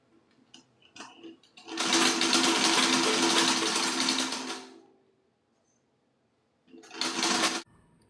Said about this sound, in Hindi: इतना सा मोड़ के एक बराबर लाइन में सिलना है